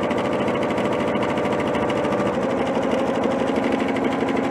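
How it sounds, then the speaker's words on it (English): A sewing machine runs a zigzag stitch across joined, already-quilted fabric pieces, a loud, steady, fast mechanical whir with an even rapid needle rhythm and no pauses or voices. "Starting to sew now. And this is just a zigzag with a width of 5 and a length of 2."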